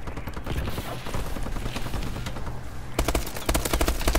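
Gunfire in Call of Duty Advanced Warfare, dense bursts of rapid automatic shots and loud game action, rattling continuously with a sharper volley near the end.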